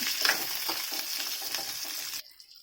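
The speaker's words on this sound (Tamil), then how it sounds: "ரெண்டு பச்சை மிளகாய் பூண்டு பல் மூணு கொஞ்சமாக புளி சின்ன சின்னதாக கட் பண்ண ஒரு தேங்காய் எல்லாத்தையும் ட்ரை ரோஸ்ட் பண்ணிக்கலாம்" Green chillies, garlic cloves, a little tamarind and chopped coconut dry roasting in a pan, giving a steady close sizzling crackle with light stirring scrapes, cutting off abruptly near the end.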